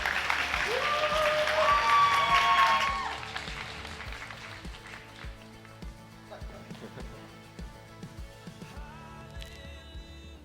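Loud audience applause at a Korean church worship service welcomes a young guitarist from the praise team, lasting about three seconds before dropping to a few scattered claps over quiet background sound.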